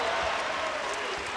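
A capacity basketball crowd stands and roars inside Stegman Coliseum, a steady, dense wall of cheering and noise that holds level without a break.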